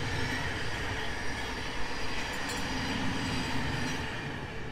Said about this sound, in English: Apologies for the trains, by the way.